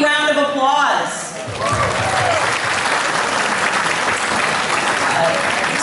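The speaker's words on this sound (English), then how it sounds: "So you all need to give yourselves a big round of applause." A community gala audience bursts into loud, dense applause that follows the tail of a voice and continues as a steady roar of clapping with a brief dip early on.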